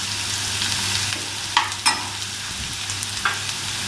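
Curry leaves sizzle in hot oil in a pan for a Punjabi-style crispy moong dal, a steady loud frying hiss with a few sharp crackles and pops, no talking.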